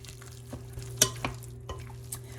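A spoon stirs a raw chicken meatball mixture seasoned with cumin, making a few soft, wet scrapes and knocks against the bowl at irregular intervals, close and quiet over a low hum.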